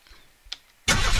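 A few faint clicks, then a car engine in the video game Unturned suddenly roars to life, loud and close, running steadily to the end.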